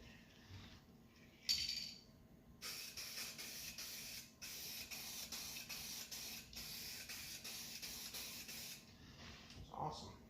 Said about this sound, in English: This spray paint goes on so light.